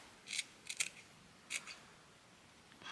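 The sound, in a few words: scissors cutting a flower off scrap fabric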